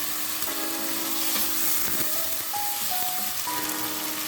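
Green chilies, ginger and spices sauté in hot oil in a pan, a steady close sizzle hissing throughout with faint tonal hums rising in steps behind it, no one talking.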